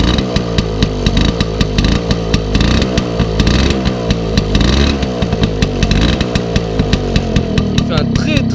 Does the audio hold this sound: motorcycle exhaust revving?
yes